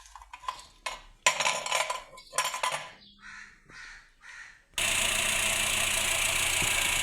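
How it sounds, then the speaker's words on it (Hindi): A car engine cranks on abruptly and settles into a loud, steady idle with a vacuum gauge connected, after several seconds of crows cawing and faint clinks nearby. "इंजन अभी स्टार्ट करेंगे।"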